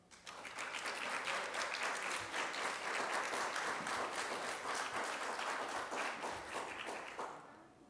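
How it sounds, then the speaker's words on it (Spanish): An audience at a conference talk on a probiotic for metabolic health breaks into sustained, dense applause welcoming the speaker, many hands clapping evenly for about seven seconds before fading out. "Recibámosle con un fuerte aplauso."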